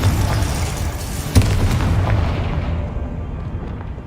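Confringo spell explosion in Hogwarts Legacy, a sudden boom at about a second and a half over a dense rumbling bed that slowly fades.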